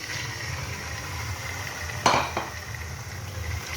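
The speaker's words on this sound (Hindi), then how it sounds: "प्याज को और चिकन को आपने अच्छी तरह फ्राई करना है, गोल्डन ब्राउन करना है।" Chicken and onions frying in a hot pan, a steady sizzle throughout with one sharp metallic stir or clink of utensil against the pan midway, close and moderately quiet, no talking.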